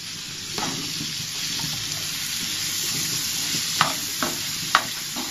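Chopped onions and green chillies fry in hot oil for a dry fish egg curry, a steady close sizzle broken by a few sharp stirring scrapes.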